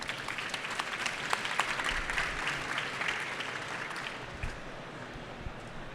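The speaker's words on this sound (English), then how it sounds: "Big round of applause, please." An audience at a London GeoAI conference gives a round of applause, a sustained mass of clapping with sharp individual claps standing out, gradually thinning toward the end.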